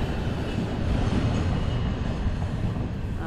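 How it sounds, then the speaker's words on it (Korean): A train rolls past with a steady, dense rumble and rushing roar, loud and continuous throughout, with a faint high squeal near the end and no talking. "기차 간다. 어, 기차 다니는구나."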